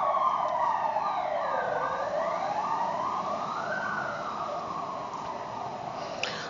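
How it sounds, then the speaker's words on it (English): An ambulance siren wails as it passes, a loud wavering tone that rises and falls steadily, with a faint rush of road traffic underneath and no talking. "oh, there's an ambulance"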